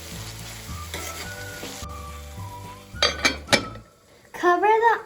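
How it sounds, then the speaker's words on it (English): Onions frying in oil in a pan, stirred with a utensil: a steady sizzle with clinks and scrapes against the pan, louder bursts of stirring near the end and a brief voice-like sound at the close. "Keep stirring the onions then and there."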